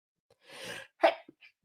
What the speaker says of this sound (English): sorry, I've got a sneeze.